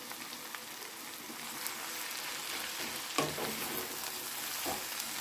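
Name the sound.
fresh spinach added to a pan, sizzling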